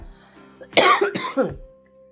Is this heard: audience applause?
no